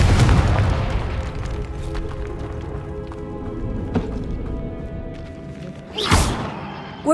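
A Confringo fire spell blasting in the Hogwarts Legacy video game, a loud booming explosion at the start that rumbles away over several seconds, then a sharp whooshing burst near the end.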